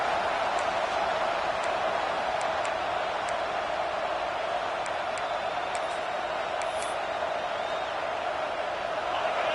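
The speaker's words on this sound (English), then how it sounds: "This crowd bringing the energy and noise early" A broad, steady roar of a large stadium crowd at a football game fills the space, a constant wash of distant voices with occasional faint whistles and shouts.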